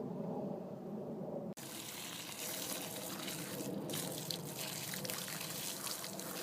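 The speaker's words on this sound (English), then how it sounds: "I'm going to go ahead and wash them with the hose" A garden hose sprays water steadily over a pile of freshly harvested, very dirty potatoes outdoors, a continuous close rushing wash that starts abruptly and runs unbroken.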